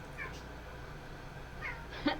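A cat meows faintly a few times, with short wavering cries at the start and near the end over a quiet room hum.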